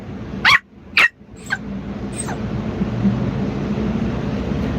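A dog lets out two sharp barks close by, then a few fainter yips fade into a steady background hum.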